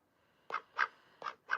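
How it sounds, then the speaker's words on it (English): Four short, bright quacks from a pet duck, close and clear, spaced at uneven intervals with quiet gaps between them. "The duck's name is Olivia Gray"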